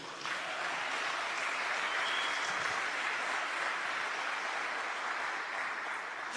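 A live audience breaks into applause at a Portuguese-language talk, a steady, dense wash of clapping that holds evenly for several seconds with no voices over it.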